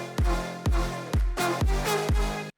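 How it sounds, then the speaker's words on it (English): A super wide clap sample, panned hard to each side, hits six times in a steady rhythm over a deep kick, each strike sharp and bright with a short ringing decay, with no voices. "And then we have this super wide clap"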